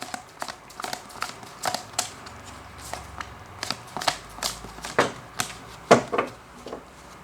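Tarot cards being shuffled and drawn by hand, a quick run of crisp papery snaps and flicks in uneven rhythm, close and fairly quiet with no talk over it.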